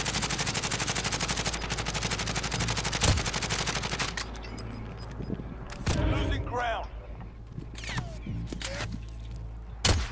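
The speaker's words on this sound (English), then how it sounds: "There's shots coming from storage town and boneyard." Distant gunfire in a battle royale game, repeated bursts of shots from far off under steady game ambience, with players talking over it.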